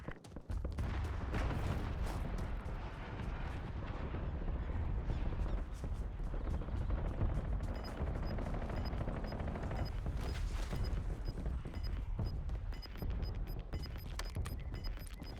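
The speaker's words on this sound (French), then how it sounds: "je demande des bombes à guidage laser" Call of Duty battle-royale gameplay with laser-guided bomb strikes brings a continuous rumble of explosions and rapid gunfire, dense and loud throughout, with sharp bursts and booms layered over a heavy low roar.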